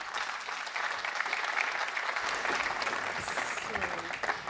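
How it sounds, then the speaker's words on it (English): Steady applause from a conference audience at IAA Mobility fills the space, dense clapping that holds at an even level throughout with a voice briefly audible near the end. "Big applause"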